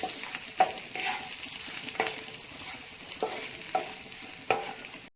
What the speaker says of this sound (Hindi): चिकन में मैंने डाला है चिकन टिक्का मसाला। अब मैं इसको अच्छे से मिक्स करूंगी